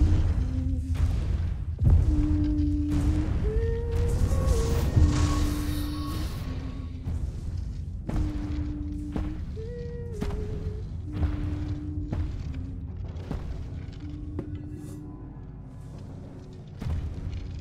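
A golem in a VR video game sounds like heavy, rumbling booms and thuds in a low steady rhythm, resembling giant footsteps, over a droning tonal background with occasional higher tones.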